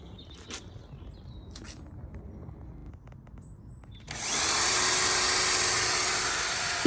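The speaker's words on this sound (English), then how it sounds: "Even at low power the air compressor and drill together demonstrate significant sound." Electric drill spinning a schist disc alongside an air compressor, starting abruptly after a few seconds of near quiet and holding a loud, steady whine with a broad hiss until the end.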